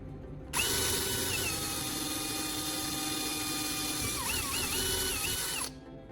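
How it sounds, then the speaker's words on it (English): Power drill boring a small hole through an old CD, a steady high-pitched whine that starts abruptly, holds for about five seconds with a slight wavering in pitch near the end, then cuts off. "I take an old CD and carefully drill a small hole right through its surface."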